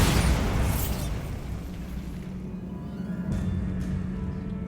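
Bombarda explosion spell in the Hogwarts Legacy video game, a loud close blast with deep rumble that fades into a lingering low roar, with a couple of faint sharp ticks near the end.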